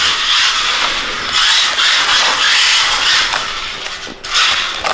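A Hex Mods Pro Series all-wheel-drive RC car runs, making a loud, continuous high-pitched electric whine with rising and falling surges of motor and drivetrain noise and a brief dip before picking up again.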